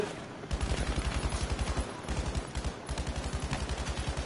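Rapid automatic gunfire from a PS4 shooter game, fired in long, evenly spaced bursts of sharp shots with a short pause between volleys. The shots are loud and steady, with no voice over them.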